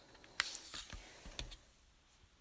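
Tarot cards being shuffled by hand give a few faint, crisp clicks and soft riffling snaps at irregular intervals, close by in a quiet room.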